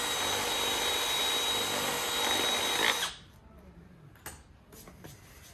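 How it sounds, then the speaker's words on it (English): A power drill whines loudly and steadily for about three seconds, then stops, leaving quiet rustling and a few faint knocks. "In between those lines, that is where I've got to drill out."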